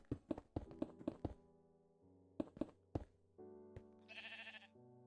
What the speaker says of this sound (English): There's a sheeps somewhere.